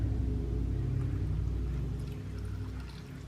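Water pours steadily into a houseplant pot during an indoor plant tour, a continuous full low gushing stream that eases slightly toward the end, close and alone.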